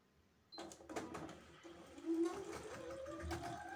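A sewing machine runs a straight stitch along a jumpsuit seam, starting from the centre, with a steady close mechanical whir and clatter that picks up after a brief quiet start and continues to the end.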